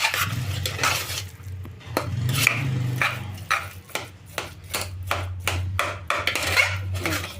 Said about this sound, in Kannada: ಇದನ್ನು ಈ ಥರ ಸ್ಮ್ಯಾಶ್ ಮಾಡ್ಕೊತೀನಿ